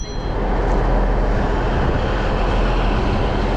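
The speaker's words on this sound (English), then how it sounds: "I'm at the train station." Steady, loud rumbling ambience inside a train station in Norwich, with broad low-end noise from idling or moving trains filling the whole stretch and no talk.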